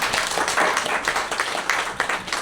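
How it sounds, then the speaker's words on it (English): A group at a training session claps in a brief burst of dense, steady applause lasting a couple of seconds. "I want to give applaud for all of this"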